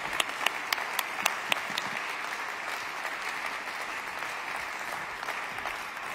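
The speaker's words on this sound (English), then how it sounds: "Let's give them a warm round of applause" Audience applause at the Austrian World Summit climate change forum, a few sharp claps at first that settle into steady, fairly quiet clapping from a seated crowd.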